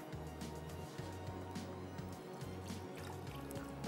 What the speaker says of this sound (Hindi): और इसमें डाल देंगे पानी